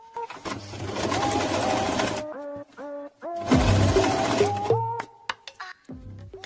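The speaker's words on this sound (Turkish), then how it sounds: "Dikiş payı için kıvrılan ütü çizgisinden bir yemi dikeceğim." Sewing machine stitching binding tape along a pressed seam allowance fold: two loud, close bursts of rapid mechanical stitching, separated by short pauses with clicks and whirring adjustments as the handwheel and fabric are repositioned.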